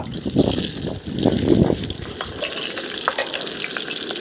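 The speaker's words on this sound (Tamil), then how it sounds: "நல்லா நெய் போட்டு சூப்பராக நம்ம ஃப்ரை பண்ணிட்டுருக்கோம்" Beef fries in ghee in an outdoor garden cookout, a loud, steady sizzle with bubbling and stirring close by.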